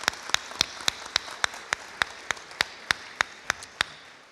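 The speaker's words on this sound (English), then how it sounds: "So I'm going to give them a round of applause." Close, crisp clapping at a steady even pace, about fifteen distinct claps over a few seconds from a community awards ceremony, sounding more like one or a few people clapping than a full crowd.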